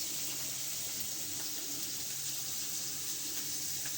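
Onions fry in very hot oil, giving a steady, even sizzling hiss that holds at one level throughout with no talking.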